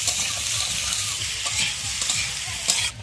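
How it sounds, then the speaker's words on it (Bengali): Onions frying with ginger and garlic in a pan for an egg and potato curry, giving a loud, steady sizzle with repeated scraping stirs throughout, no talk. "পেঁয়াজগুলো দিয়ে দিচ্ছি আর এই যে আদা রসুন এটা দিয়ে আমি একটু ভেজে নিই"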